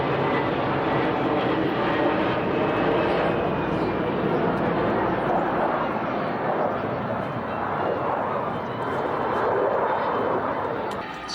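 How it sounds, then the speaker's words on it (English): An F-16 fighter jet at a 1998 Michigan air show goes around instead of landing, its engine a loud, steady roar filling the whole stretch with slight swells, while faint commentary sits underneath. "Cover our F-16s. First one to land decided to go around."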